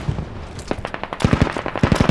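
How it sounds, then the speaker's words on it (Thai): Gunfire in a squad-based battle royale video game: scattered sharp single shots at first, then faster bursts of closely spaced cracks, fairly loud with no talk over them. "ได้ยินเสียงปืน"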